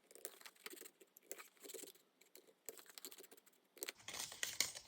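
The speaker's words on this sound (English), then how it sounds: "then I just go along the edge here and cut away all of these triangles" Scissors snipping small triangles out of a paper junk-journal window frame, giving faint, close, rhythmic cuts and light paper rustling in a quiet room.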